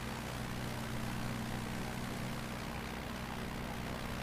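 Steady propeller aircraft engine roar during takeoff in a flight simulator game, a constant loud drone with low humming tones, unbroken and without speech.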